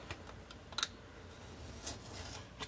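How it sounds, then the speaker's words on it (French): A craft knife slices a narrow strip of paper along a grid ruler, giving a few faint, short scratchy strokes with quiet gaps between them. "Et je vais couper au cutter."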